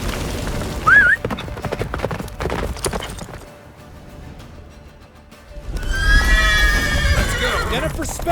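Roach, a horse in The Witcher 3, whinnies in a rising call and gallops with clip-clop hoofbeats, fading into a quieter stretch before a loud rush of hooves and a long neigh return near the end.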